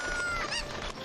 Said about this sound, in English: So now it's up to us to save this village from the evil chickens that are roaming around.